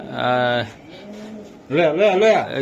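Close Budapest pigeons coo in a couple of throaty, warbling bursts separated by a brief pause.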